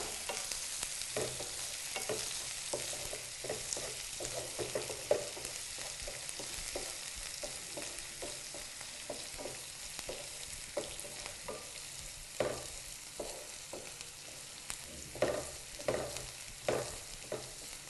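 Chopped onions fry in hot oil until browning, a steady sizzle broken by repeated scraping stirs of a spatula against the pan, close and fairly quiet, with no one speaking.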